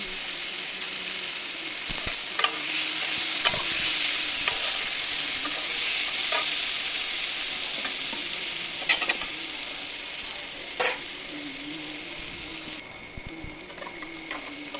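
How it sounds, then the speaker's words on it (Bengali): Cauliflower and potato pieces frying in a spice masala give a loud, continuous sizzle, with repeated scraping and knocking as a spatula turns them in the pan. No voices are heard. "ফুলকপি আর আলুগুলো এই মশলাতে দিয়ে দিচ্ছি, দিয়ে একটু ভালো করে কষিয়ে নেব"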